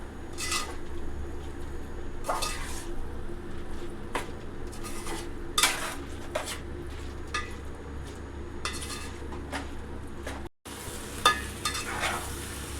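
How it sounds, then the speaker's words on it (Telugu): Small fish are tipped into a frying pan and stirred for a Telugu fish iguru curry, giving scattered metallic clinks and scrapes of a spoon against the pan over a steady low sizzle, close and moderately loud, with no talking. "ఇప్పుడైతే నెత్తలు వేసుకుంటున్నాను ఒకసారి బాగా కలుపుకోవాలండి"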